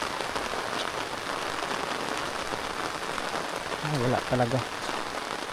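Strong typhoon rain drums steadily over a cornfield at planting time, a constant close hiss of drops, while someone speaks briefly near the end over the downpour.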